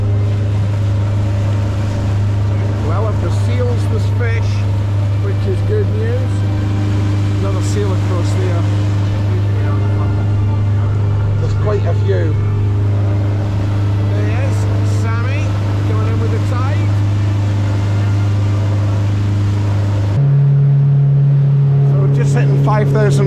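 A motorboat engine drones loudly and steadily at about 5,000 revs and over 23 knots on a cod fishing trip in Essex waters, then its pitch jumps higher near the end as it speeds up, with people talking underneath.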